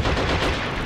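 Heavy cannon fire and explosions in the WWII strategy game Behind Enemy Lines: Assault Squad 2, a dense, loud barrage of booming blasts and crackling gunfire filling the whole moment.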